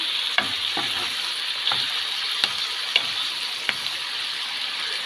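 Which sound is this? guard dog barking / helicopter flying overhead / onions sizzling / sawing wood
onions sizzling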